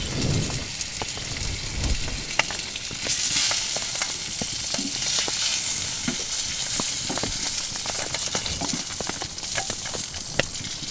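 Food sizzling and frying steadily in a pan on a sloped wood stove in a snowy forest camp, a dense continuous crackle with scattered pops and a few stirring clinks, close and loud, no voices.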